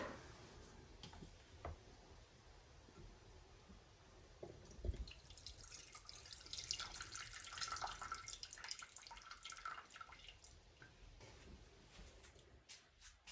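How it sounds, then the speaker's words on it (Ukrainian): Water drained from steamed courgettes pours and trickles into a pot, quiet at first with a few drips, then a fuller stream that fades back to dripping. "Знову зливаємо воду у каструльку."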